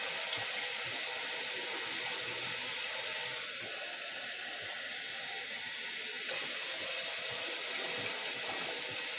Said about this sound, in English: You put some water in there until it covers the potatoes